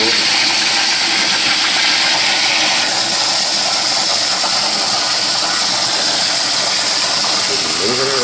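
Tap water running hot and cold to rinse aquarium substrate, a steady loud broadband hiss and rush filling the whole stretch with no break.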